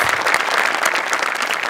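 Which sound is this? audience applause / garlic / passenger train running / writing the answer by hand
audience applause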